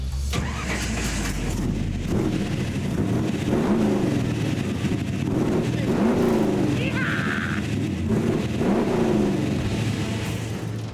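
A 525HP ARCA street-legal stock car engine runs steadily up close, its low rumble rising and falling in a few revs while people talk over it.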